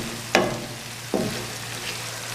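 Masala for aloo baingan frying in a pan over medium heat, a continuous sizzle with two sharp stirring scrapes close by, no talking.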